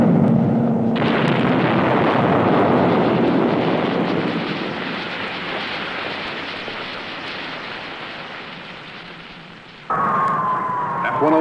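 A 1963 weapons test: a B-26 attacks a pontoon bridge built for 2.5-ton trucks with 2.75-inch rockets, giving a loud, sustained roar of blasts and rumble that slowly fades, then a fresh burst of noise near the end.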